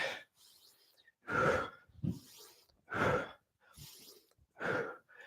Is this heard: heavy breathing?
yes